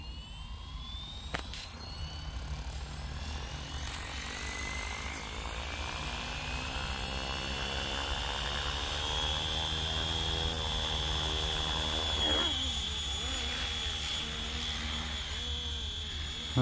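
A Flywing FW450 RC helicopter spools up and takes off nearby, its rotor and motor whine rising steadily in pitch and loudness into a sustained buzzing drone that continues throughout.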